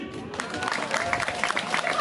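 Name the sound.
audience applause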